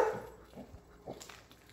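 A dog barks a few times outdoors, short yips and barks spread across a quiet, faint background while another dog or cat is being chased nearby.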